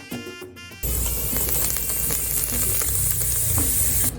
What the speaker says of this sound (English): Fry them on the medium heat until they are golden brown.